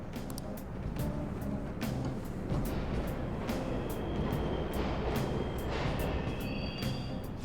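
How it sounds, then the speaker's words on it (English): Subway trains run through an underground station in the video game Persona 5 Royal, a continuous rumbling roar with faint metallic clicks and a thin high whine, heard steadily throughout. "The trains are totally running!"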